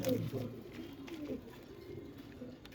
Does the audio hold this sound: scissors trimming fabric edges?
no